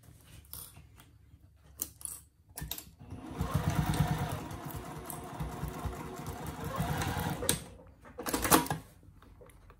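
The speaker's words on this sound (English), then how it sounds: "We're gonna stitch that down." A sewing machine runs steadily for about six seconds, stitching down a fabric placemat pouch, with brief starts and stops of the motor around it and no talking.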